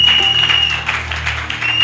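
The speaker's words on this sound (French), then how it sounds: "Acclamons pour la gloire de notre Seigneur, notre Dieu." A church congregation applauding, a dense, loud patter of clapping over a sustained hum, with a faint voice underneath.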